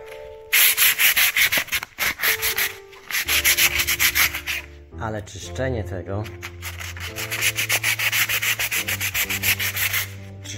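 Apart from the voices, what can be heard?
cleaning sandblasted oak wood by rubbing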